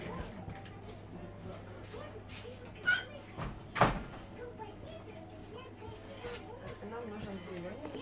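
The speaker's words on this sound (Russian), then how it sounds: "только дверь закрыть." A door swings shut during a manicure lesson, giving a short thud in the middle of the clip, with a smaller knock just before it, over a steady room hum and some background voices.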